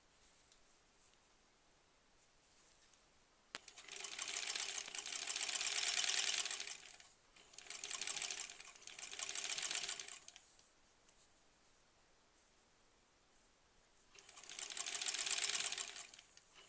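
A sewing machine stitching quilt border pieces for a granny squares quilt, running in three separate bursts of rapid, whirring stitching with quiet pauses between them.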